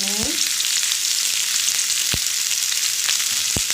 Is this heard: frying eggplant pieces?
yes